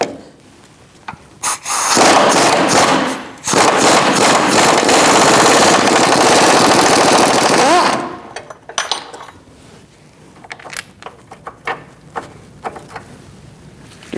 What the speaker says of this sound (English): I'm going to use an 18mm wrench on the top and an 18mm socket on the bottom